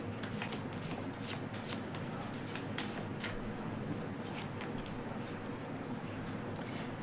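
Tarot cards being shuffled before one is drawn for a reading: soft, continuous papery riffling and flicking with faint snaps, fairly quiet and close, with no voice.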